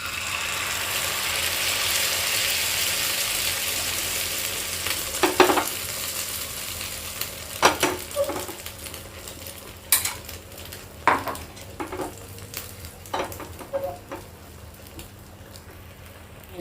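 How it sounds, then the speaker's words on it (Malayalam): Bread omelette egg mixture poured into a hot pan and frying, a steady soft sizzle with scattered sharp scraping clicks and taps of a utensil against the pan. "ചൂടായ പാനിലോട്ട് നമ്മൾ മിക്സ് ചെയ്ത് വെച്ച ഈ കൂട്ടങ്ങ് ഒഴിച്ചു"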